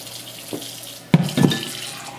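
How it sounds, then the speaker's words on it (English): Tap water runs into a container while kenkey is being prepared: a faint trickle, then a louder splashing burst of flowing water as the stream hits the vessel, close and uneven. "I need some more water, so I'm getting some more water"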